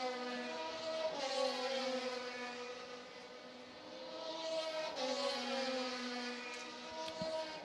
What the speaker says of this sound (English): They say the engine is not sounding good in that machine.